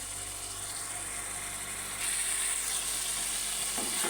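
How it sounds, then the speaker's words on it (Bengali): Spice masala sautéing in a pan as a continuous even sizzle, growing a little louder and brighter midway, with a faint low hum underneath and no talk. "দেখেন আপনারা, আমার মশলাটা কষানো হোক"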